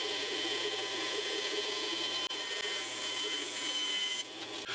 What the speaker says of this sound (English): I'm going to cut this fretboard out now